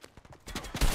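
Rapid bursts of gunfire in Fortnite, several quick shots building to a louder, denser volley near the end, with no talk over them.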